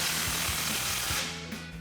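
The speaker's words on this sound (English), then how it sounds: "Slide our clamp into place and tighten that down with a 15mm socket." A ratchet with a 15mm socket tightens an exhaust clamp on a Sierra 1500 Borla dual exhaust, giving a fast continuous clicking ratchet sound up close for under two seconds.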